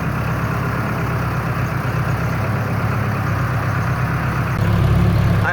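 A farm tractor engine idles nearby with a steady low rumble, its pitch and loudness rising slightly near the end as if revved.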